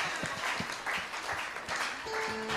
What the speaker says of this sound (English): Celebrate the Lord with a hand clap.